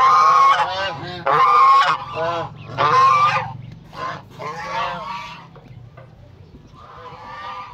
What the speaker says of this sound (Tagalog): Ayan, ayan po yung ibang gansa.